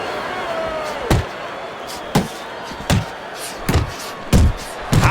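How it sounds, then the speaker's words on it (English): Repeated heavy punches landing in the Fight Night Champion boxing video game, six sharp thuds spaced about a second apart over a steady crowd-like background, with commentary talk running underneath. "a huge right hand lands from Andre Bishop"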